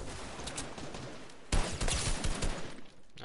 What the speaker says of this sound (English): I knew I heard someone with an SMG.